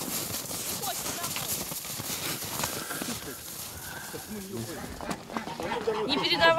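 Horse hooves clip-clop on a film set for a historical series, a rhythmic run of hoofbeats mixed with people talking and other background activity.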